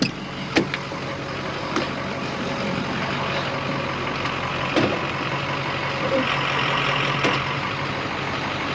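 A 1979 Jeep Wagoneer truck with dual rear wheels rumbles steadily as it pulls forward slightly, a constant close engine drone with a few sharp clunks and knocks, and no voices.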